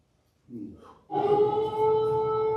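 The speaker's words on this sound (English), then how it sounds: "This is a siren in Ukraine." After a brief low sound, an air raid siren in Ukraine starts up and holds a loud, steady wailing tone.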